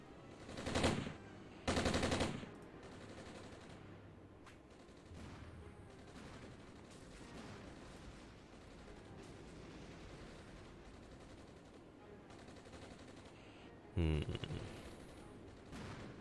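Machine-gun bursts from British forces on the Mojave in the Armoured Brigade wargame, loud separate bursts early on and again near the end, with a low rattle of distant fire in between.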